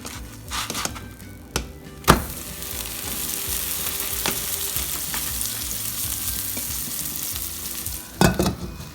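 A buttered veggie sandwich frying in a pan sizzles steadily and close, broken by a few sharp knocks and scrapes of the spatula, with no one speaking.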